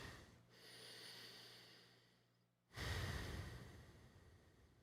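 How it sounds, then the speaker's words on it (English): Slow diaphragmatic breathing close to the microphone: a long soft exhale trailing off, a brief pause, then a loud sudden breath that gradually fades. "I'm going to slow down my breathing."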